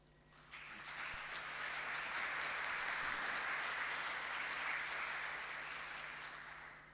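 Sustained applause from a seated audience at a savanna science network meeting, rising quickly and holding steady for several seconds before tapering off, moderately distant and with no talk over it.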